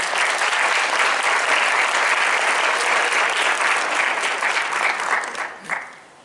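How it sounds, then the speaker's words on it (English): Audience applause at a school induction ceremony after a musical performance, a steady wash of many hands clapping throughout, tapering with a few final claps near the end. "Please give them a round of applause."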